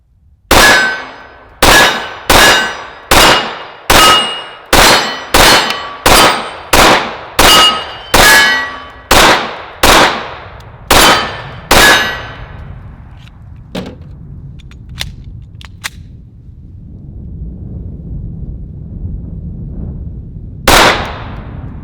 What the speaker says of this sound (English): let's just keep shooting